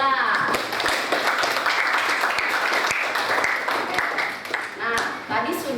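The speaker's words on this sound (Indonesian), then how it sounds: "Oke, tepuk tangan dulu buat Dela." Classroom applause from students during an Indonesian language lesson, a dense burst of many hands clapping steadily for several seconds, close and loud, with sharp individual claps standing out and some voices mixed in.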